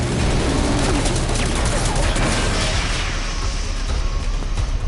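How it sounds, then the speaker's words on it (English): Anti-tank rounds fired in Metal Gear Solid 5 make a steady, loud barrage of heavy gunfire with booming impacts that keeps going without a break. "Are those anti-tank bullets?"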